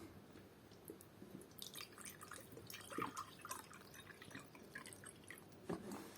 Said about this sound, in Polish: Do drugiej szklaneczki nalejemy jak się uda wody źródlanej